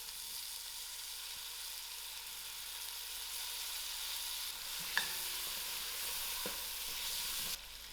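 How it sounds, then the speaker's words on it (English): Potatoes and carrots fry in masala with a soft, even, continuous sizzle, faint and steady, with one small clack partway through and a few light stirring touches. "I'm just going to add my potatoes and carrots and allow this to fry a little."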